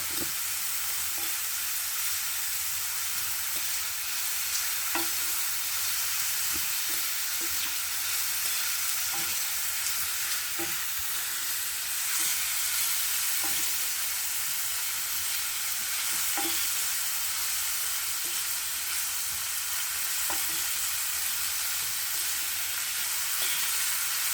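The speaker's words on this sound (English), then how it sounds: "My vegetable is all cooking out, so I'm just going to add some boiling water, not a lot of water" Vegetables fry in a pan for a Sunday roast beef dinner with a loud, steady broadband sizzle throughout, broken by scattered stirring clicks and scrapes.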